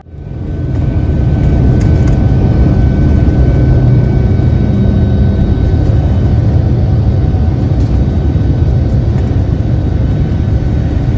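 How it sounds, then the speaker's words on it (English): Singapore Airlines Boeing 787-10 airliner on its takeoff roll and climb, heard from inside the cabin as a steady, loud, low engine roar that swells within the first second and holds evenly throughout, with no talking. "Okay, so that was takeoff."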